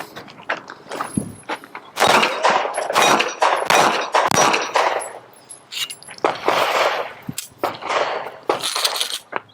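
A SIG P365 pistol fires several sharp rounds at a target, loud cracks spaced irregularly amid metallic clangs and ringing, with brief pauses between bursts.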